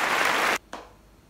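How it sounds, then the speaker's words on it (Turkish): A woman claps for herself in a home kitchen, a quick burst of hand claps lasting about half a second, then one last single clap, close and crisp. "Kendime bir alkışlayayım"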